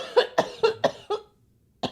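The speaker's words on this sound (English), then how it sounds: "Welcome to the COVID cough." Harsh, dry coughing fit from a person with COVID, five quick close-up coughs in a rhythmic burst, a brief pause, then one more cough.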